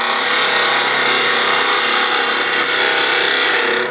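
A wood lathe spinning at about 2,000 RPM while a tool slices a smooth cut on a wooden napkin ring, giving a steady, loud, broadband hiss and whir that runs unbroken for the whole stretch with no voices.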